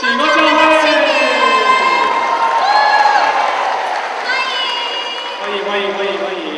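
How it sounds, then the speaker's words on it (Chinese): A crowd at a joint Christmas thanksgiving church service claps to welcome the youth group of a church, with cheering and shouted voices mixed in. The noise is loud and sustained, fading slightly toward the end. "让我们先掌声欢迎启功教会的青年"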